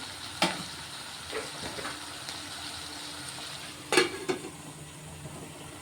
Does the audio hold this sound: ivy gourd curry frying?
yes